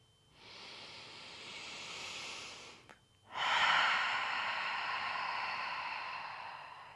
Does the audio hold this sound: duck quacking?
no